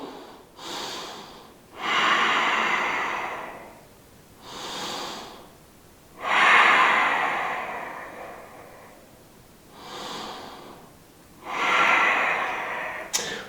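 Slow, deep breaths during a yoga session, six long airy inhales and exhales in a steady rhythm with quiet gaps between them, close and unaccompanied by talk.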